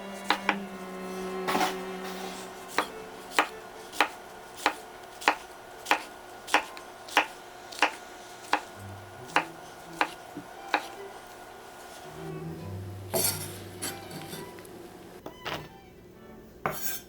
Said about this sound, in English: Cut them lengthwise, and then turn and cut them into cubes as well.